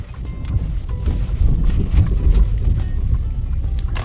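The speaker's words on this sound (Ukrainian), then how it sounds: "Ми відчуваємо тут і двигун чутно, і трошечки підвіску чутно" A steady low rumble of a 2009 Ford Focus 2.0 diesel engine with road and suspension noise from inside the moving car, constant and fairly loud.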